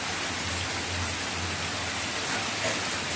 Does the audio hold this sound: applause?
no